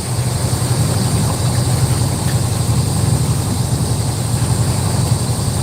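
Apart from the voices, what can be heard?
boat engine running at higher RPMs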